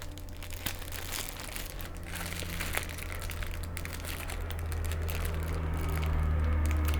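Black tape crinkles and crackles as it is cut and handled while binding vegetables on a farm, a close, continuous rustling with no talk.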